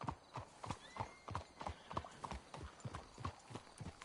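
Horse hooves clip-clopping in a steady, even rhythm on a hard surface in a PS4 video game, close and continuous, with no talking.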